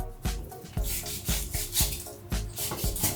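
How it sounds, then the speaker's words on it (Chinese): A cleaver chops meat on a wooden board in a home kitchen, striking in a steady rhythm of close, solid thuds roughly every three-quarters of a second, with a dull rubbing scrape between the blows. "肉剁一下"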